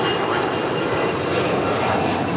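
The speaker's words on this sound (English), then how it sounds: "That was American 413 departing to Phoenix on an A319." An Airbus A319 airliner taking off at Los Angeles International Airport, a steady, loud, broadband jet engine roar that holds constant throughout with no talk.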